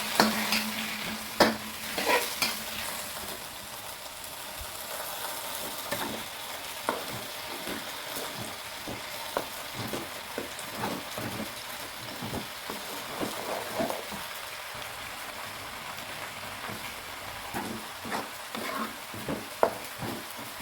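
Vegetables and blended chili stir-frying in a pan, a continuous sizzle broken by repeated scraping and stirring clatters of a utensil against the pan, close by and moderately loud.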